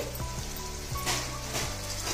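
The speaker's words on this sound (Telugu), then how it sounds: "వాటర్ వేసి" Water poured from a small vessel into a pan over pieces of fish cooking on a medium flame, a steady close pouring wash with a faint sizzle and low background hum for about two seconds.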